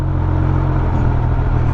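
A Triumph Speed Triple 1200 motorcycle engine held at a steady raised idle during a riding lesson, a loud, close, continuous low drone with no talk.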